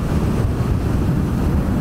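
Heavy wind noise buffets the microphone on a Vespa GTS Super 300 scooter cruising at 70, a loud, continuous low rumble and roar with the engine buried beneath it.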